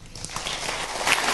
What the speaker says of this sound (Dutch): Een warm applaus voor Huub van der Lubbe.